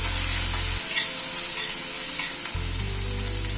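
Chopped ginger frying lightly in oil for dal, a steady bright sizzle that runs close and continuous through the whole moment with no voices.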